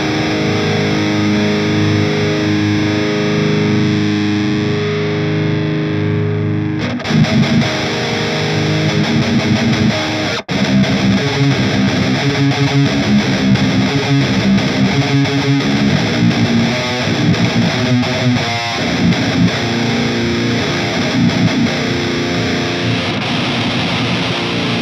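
An electric guitar plays low-tuned chugs through a Mesa Triple Crown amp simulation. A quieter sustained passage gives way to loud, heavily distorted, driving riffs with sharp, rhythmic palm-muted hits. No speech is heard.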